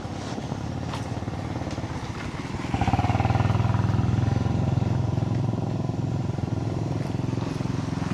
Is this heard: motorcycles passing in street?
yes